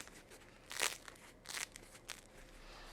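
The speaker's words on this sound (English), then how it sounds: "you can hear the crunching as I hold it up to the microphone" Crisp crunching and crackling bursts, close and fairly quiet, as a crusty sourdough baguette is squeezed and handled near the microphone.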